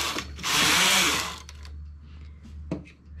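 A knitting machine sews the armholes of a blouse: one loud whirring, rasping carriage pass of about a second, then quieter clicks and a short mechanical rattle over a low steady hum.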